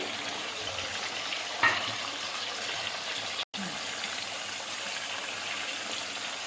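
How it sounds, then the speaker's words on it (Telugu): Chicken with onions and green chillies fries in hot oil, giving a soft, continuous sizzle with faint stirring, one brief clink and a short dropout, no talking. "ఇందులో మనం ఇప్పుడు కడిగి శుభ్రంగా పెట్టుకున్న చికెన్ వేసేస్తున్నాం"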